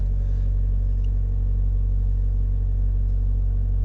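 A 2014 Chevy Volt's Ecotec engine idles with a P0300 secondary ignition misfire, a loud, steady low rumble throughout, the intermittent miss not clearly standing out.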